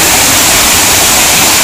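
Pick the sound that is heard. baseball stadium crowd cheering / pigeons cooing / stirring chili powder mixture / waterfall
waterfall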